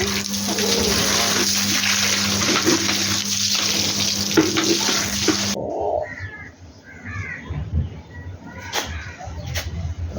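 Water gushes from a motor pump in a steady, loud rush over a low motor hum for about five seconds, then cuts off; crows caw nearby in the quieter stretch that follows.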